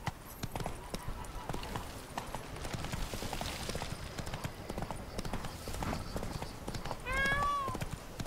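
Hooves of the horse Roach clip-clop steadily in The Witcher 3: Blood and Wine, a close rhythmic trot over ground with game ambience, and a short whinny near the end.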